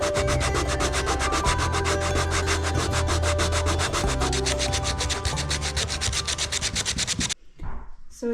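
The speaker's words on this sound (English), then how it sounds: "So let's sand this down" Loud, steady rhythmic sanding across a wood and epoxy resin centerpiece, close and continuous scraping strokes for several seconds before stopping abruptly, followed by a few faint handling noises.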